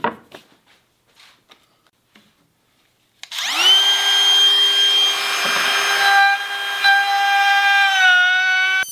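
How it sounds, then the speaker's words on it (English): A wood router spins up with a loud, steady whine and cuts a round-over profile along the edge of a wooden piece, its sustained tonal howl shifting slightly in pitch, following a few faint taps. "So we're going to put a round over on both sides of this"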